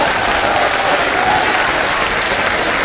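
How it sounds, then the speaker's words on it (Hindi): Loud, sustained applause from a large town hall crowd for Rajya Sabha MP Sanjay Singh at an education event in Prayagraj, thick and continuous clapping at a constant level with no voices standing out. "ऐसे प्रतीक राज्यसभा सांसद माननीय संजय सिंह के लिए जोरदार ताली हो जाए"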